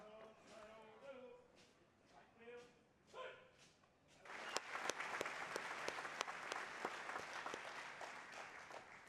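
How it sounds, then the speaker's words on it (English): An indoor audience at an electric cooperative's annual meeting bursts into loud, sustained applause for the color guard, dense clapping that starts abruptly and continues to the end, preceded by a few seconds of talk. "Thank you for the big hand for the color guard, too."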